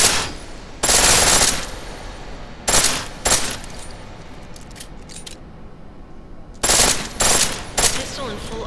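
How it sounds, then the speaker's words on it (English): Pistol firing on full auto in Deus Ex: Mankind Divided, with three loud, fast bursts of rapid shots separated by quieter game ambience. "The pistol in full auto will take down targets fast, but it'll burn through your ammo."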